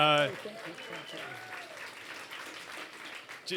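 Applause for Larry at a live 30th anniversary radio broadcast runs as a steady, moderately quiet patter after a brief opening voice, with talk continuing over it and a voice returning at the end.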